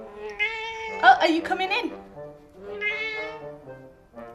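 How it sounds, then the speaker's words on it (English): A cat meows in a garden, its cries rising briefly and mixing with someone speaking to it nearby. "Cat in the garden."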